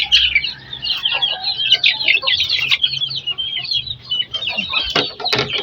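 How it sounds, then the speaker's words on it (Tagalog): Chicks and chickens on a farm cluck and peep continuously, a busy chorus of high chirps and soft clucks close by, with faint low rustling underneath. "Ito yung mga sisiw pa."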